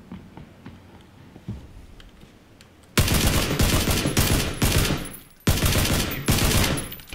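SCAR rifle fire in the PUBG video game: quiet faint taps for three seconds, then loud rapid bursts of automatic gunshots in two long volleys separated by a brief gap.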